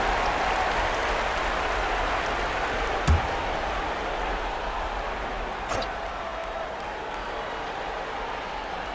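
A crowd at a Los Angeles Lakers basketball game applauds for the Los Angeles Dancers, a steady wash of clapping and cheering from a large arena audience that holds throughout with a couple of brief louder knocks.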